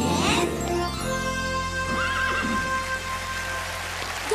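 Horses neigh and whinny loudly at close range, the shrill descending calls overlapping a steady background and faint hoof clops.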